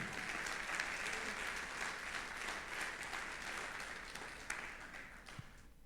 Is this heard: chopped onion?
no